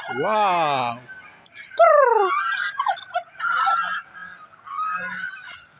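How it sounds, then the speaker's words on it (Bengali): Several loud geese honk and cackle nearby in overlapping bursts, with turkeys, chickens and other fowl calling in the background at a poultry farm deep in the Malaysian jungle. "এখানে কিন্তু টার্কি মুরগি আছে রাজা হাঁস আছে"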